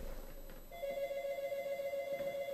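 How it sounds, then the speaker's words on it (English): Telephone ringing in the game Sawcraft, a steady electronic ring tone that starts after a short pause and carries on loud and continuous, with no talk over it. "I'm going to keep that ringing phone right there."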